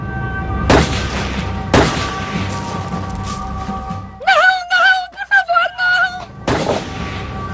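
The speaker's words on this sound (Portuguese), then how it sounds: "Então ouvimos muitos tiros." Many sharp, loud gunshots ring out at irregular intervals during a terrorist attack in Norway, with a burst of tonal, wavering sound like distant shouting or sirens in the middle.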